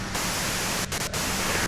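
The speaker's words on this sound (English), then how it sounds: "you can do it through the white noise" Radio static and white noise in the video game Disco Elysium, a steady broadband hiss filling the whole stretch with two brief dropouts near the end, no speech.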